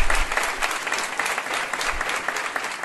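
A church congregation at a Bible study gathering applauds, with dense, steady clapping from many hands filling the room at an even level throughout.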